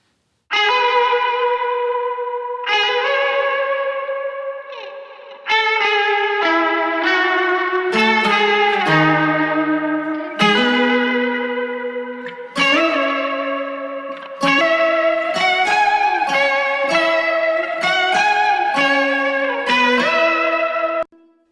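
Two overlapping takes of a guitar solo ring out together, a bright, effects-laden lead with reverb, chorus and echo, playing sustained melodic phrases continuously for about twenty seconds with no talking.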